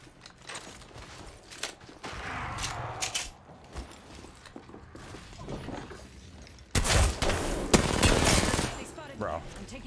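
Gunfire in Apex Legends, scattered shots and bursts mixed with mechanical clatter and game effects, growing louder and denser toward the end, with a player talking intermittently over it.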